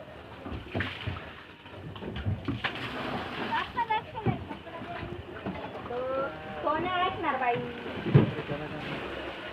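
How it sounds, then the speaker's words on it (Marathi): Water fills and splashes through a flooded village lane, a rushing, sloshing wash that swells and fades under nearby voices talking throughout. "पूर्ण गल्ली पाणी भरती."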